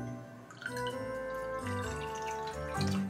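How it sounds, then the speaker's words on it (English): Water is poured into a pot for a Japanese water cake, a bright splashing and trickling stream heard up close over a steady background. "pour it in the pot."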